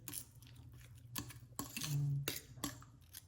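A utensil scrapes and clinks against a bowl while canned tuna and crushed Skyflakes crackers are mixed for nuggets. The taps are irregular and close, with a soft steady hum behind them.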